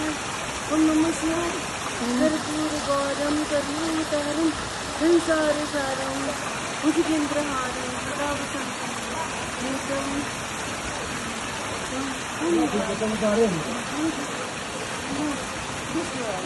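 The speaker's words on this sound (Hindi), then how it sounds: "ये जो मुक्ति की धारा है ये आ रही है गंडकी रिवर से, ये गंडकी रिवर की धारा है ये सब।" Cold water of the Gandaki river flowing as a stream at the Muktinath temple in Nepal, a steady broadband rush that runs throughout, with people talking over it now and then.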